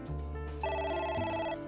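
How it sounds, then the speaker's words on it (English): A telephone rings in the video game AI: The Somnium Files, a bright electronic ringtone with layered tones that shifts pitch partway through and sounds close and clear without any talking. "It's ringing again."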